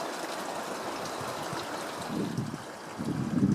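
A small creek with very little flow trickles and murmurs steadily outdoors, a soft continuous wash of water that swells slightly toward the end, with no voices.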